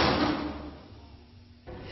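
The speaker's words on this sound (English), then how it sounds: "the problem could be these noisy doors jailers use to monitor the cells" A heavy jail cell door slams with a loud metallic impact and a rumbling tail that decays, then cuts off abruptly near the end.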